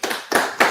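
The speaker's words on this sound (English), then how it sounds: "Let's give her a round of applause." A few sharp hand claps for Sheila, three quick separated claps in under a second, close and fairly loud.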